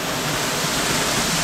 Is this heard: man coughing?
no